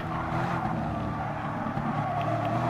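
Race cars from Gran Turismo Sport, a Chevrolet Corvette and Toyota Supra dueling for first, give a steady, dense engine roar with a faint tire squeal, loud and continuous.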